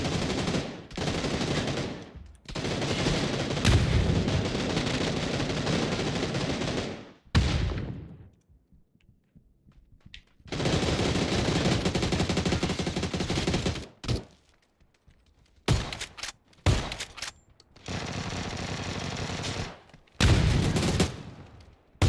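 Long bursts of automatic gunfire from the PUBG video game, loud and dense, broken by short pauses and a few single shots.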